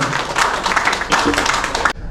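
A seminar audience at Fubari Restaurant claps loudly to welcome a speaker on stage, a dense burst of applause that cuts off abruptly near the end.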